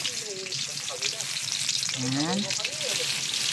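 Ground meat sizzles loudly in a hot frying pan as it is added, a steady broadband frying hiss with stirring, while a voice speaks briefly over it.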